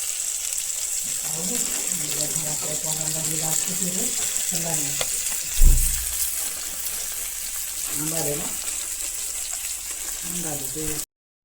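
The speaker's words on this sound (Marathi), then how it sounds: "तर असा हा बांगडा फ्राय होतोय" Bangda mackerel fish frying in a pan, a constant bright sizzle under intermittent voices, with a single deep thump midway, before the sound cuts off abruptly.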